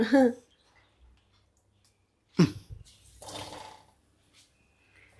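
Soaked soya chunks are squeezed by hand to press out water, giving short wet squelching bursts separated by quiet pauses, with a soft trickle after one squeeze.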